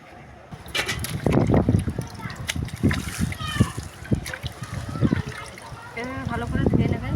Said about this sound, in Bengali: ভালো করে ধুয়ে নেবেন, দেখবেন যাতে বালি না থাকে।